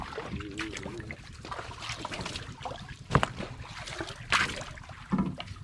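An 81-year-old paddles a small outrigger boat on the sea, with soft dips and splashes of the paddle in an irregular rhythm against a wind-brushed, watery background, heard close and without talk.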